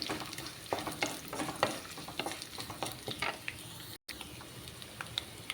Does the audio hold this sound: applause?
no